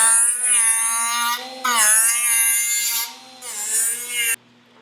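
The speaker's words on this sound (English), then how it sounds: "now I took down that edge, took my angle grinder with the 80 grit" An angle grinder with an 80-grit disc takes down the edge of a metal trim molding on a K5 Blazer. It gives three close, loud, whining bursts that dip and rise in pitch, separated by short pauses, before cutting off.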